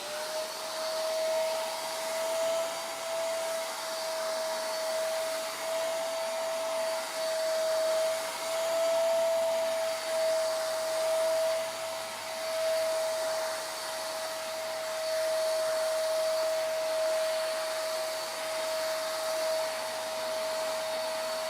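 A Lidl Parkside wet and dry vacuum cleaner sucks up water from a floor, running as a steady, loud motor whine with a sharp constant tone and a faint gurgling hiss, with no voices.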